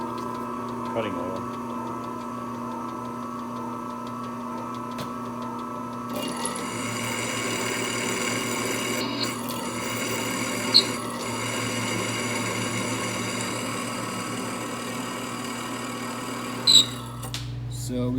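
A drill press with cutting oil bores through welded-up mounts for a Mopar 8 1/4 rear end swap in a Plymouth Duster, whining steadily in a workshop for a long stretch with a couple of sharp clanks near the end.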